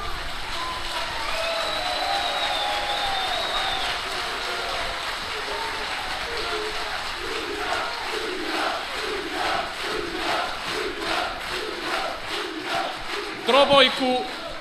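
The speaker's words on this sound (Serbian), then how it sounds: "zamoliti da jednim aplauzom pozdravimo našu srpsku trobojku" Large outdoor crowd at a political rally in Podgorica applauding to greet the Serbian tricolour flag, a sustained wash of clapping and cheering, with shouts and a voice rising above it.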